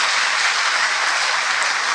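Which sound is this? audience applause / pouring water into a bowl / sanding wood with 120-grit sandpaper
audience applause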